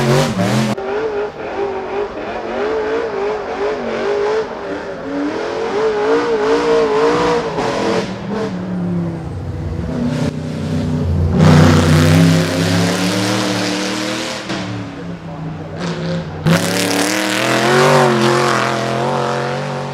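A Ford race car engine in the Need for Speed racing game revs hard and loud, climbing and dropping in pitch through repeated throttle bursts and shifts with no pauses.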